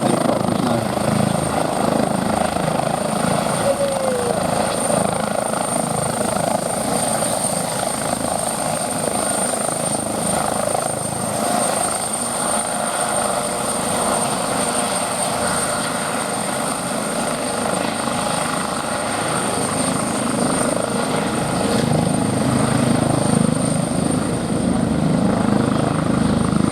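Juno, a helicopter formerly called the Squirrel, flies a display at the Midlands Air Fest air show, its steady rotor thrum and turbine whine loud and continuous throughout with no talk.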